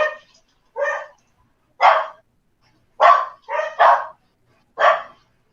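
Several dogs bark loudly and nearby in separate sharp bursts, seven barks spread unevenly across the stretch with silence between them.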